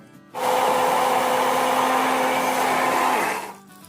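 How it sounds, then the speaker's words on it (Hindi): Garlic and green chillies being ground with an electric hand beater give a steady, loud, close motor whir that starts abruptly, holds for about three seconds and cuts off, with no talk. "मेरे पास ये हैंड बीटर है, मैं इससे कर रही हूँ।"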